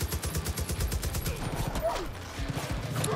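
Rapid automatic gunfire in the shooter Far Cry 5, a fast, even stream of sharp close shots in several long bursts, with a voice faintly under it.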